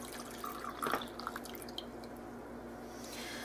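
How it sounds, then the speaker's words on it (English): Juice trickles and drips faintly into a Range Mate cooker in a brief pour, against a quiet background hum with no voices. "Just pour that juice in there."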